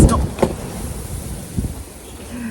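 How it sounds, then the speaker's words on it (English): Steady outdoor wind buffets the microphone with a low rumbling roar, broken by a few gusty thumps, with a faint tonal sound near the end. "It's very windy out here."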